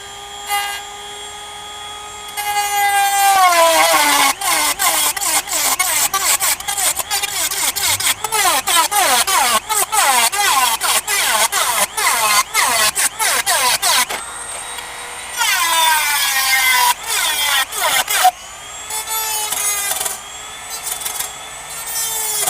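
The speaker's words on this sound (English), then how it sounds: "I'm just cutting aluminum, so it shouldn't have too hard of a time cutting through this." Cheap saw blade cutting through aluminum, producing grinding, rasping bursts with shrill metallic squeals, loud and close, broken by short pauses between passes.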